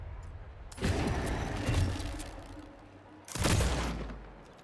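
Rifle gunfire in a video game comes in two loud, noisy bursts of rapid shots, each lasting a couple of seconds and trailing off, separated by a short quieter gap.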